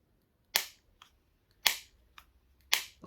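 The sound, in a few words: Xiaomi Mi Buds 3T Pro case hinge snapping open and shut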